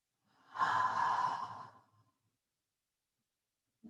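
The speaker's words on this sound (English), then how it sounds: "Big full breath in through the nose. Exhale, let it go." A deep breath drawn in through the nose and let out through the mouth during a yoga cool-down, a single close, soft breathy exhale of about a second and a half, then quiet.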